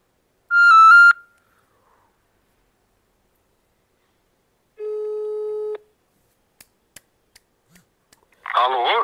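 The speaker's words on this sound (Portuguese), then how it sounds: "Ah, mas eu vou ligar pro Sérgio pra saber essa história de emprego" A telephone call is placed: one tone, a pause, then a second tone, a quick run of dialing clicks and beeps, and a short voice-like burst at the end.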